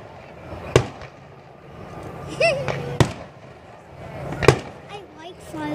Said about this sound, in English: I like fireworks.